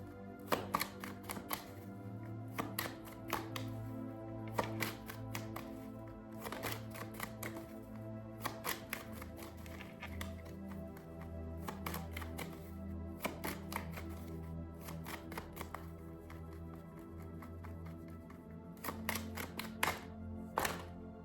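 Tarot cards being shuffled close up in repeated quick bursts of crisp riffling clicks, separated by short pauses, over a low steady background hum.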